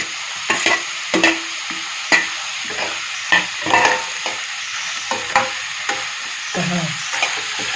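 Green chilies and curry leaves stirred in hot oil for a dry fish curry, with a spatula scraping the pan in irregular clicks and knocks over a steady close sizzle.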